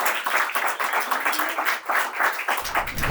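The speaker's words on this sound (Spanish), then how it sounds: "Pones el aplauso para ella" An applause sound effect is played for a guest on a talk show, a dense, steady burst of many hands clapping close up throughout.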